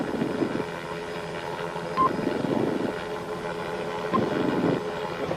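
A police helicopter flies overhead with a continuous rotor thrum and engine whine, fairly close and steady, beating in slow pulses, with no talk.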